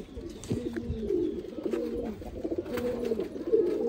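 A pair of kasni kamangar pigeons coo close by in repeated low rolling phrases, with light background noise and no talking.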